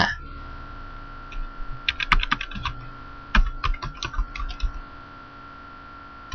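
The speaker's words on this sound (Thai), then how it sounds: "เราจะพิมพ์ URL ด้านบนนี้นะครับ" A URL is typed on a computer keyboard in two quick bursts of close, crisp keystrokes with short pauses between them, over a steady faint electronic hum and no speech.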